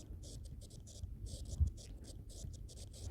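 Marker or chalk scratching across a board during a lesson, soft bursts of scraping strokes in an irregular rhythm, faint and close.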